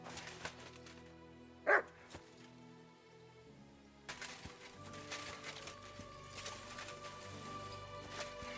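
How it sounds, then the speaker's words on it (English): A dog in Kingdom Come: Deliverance II lets out one sharp, loud bark, followed by quieter ambient game sounds and scattered clatter. "Barking."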